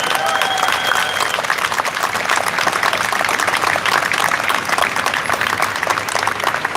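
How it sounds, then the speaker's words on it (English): Sustained crowd applause at a Rejoin the European Union protest, dense clapping from many hands filling the whole stretch at a steady loud level, with a faint voice at the start. "a warm round of applause for yourself for being here"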